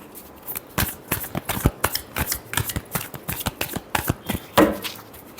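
Tarot cards are shuffled by hand in a quick run of crisp riffling snaps, about three to four per second, close and clear with no talk.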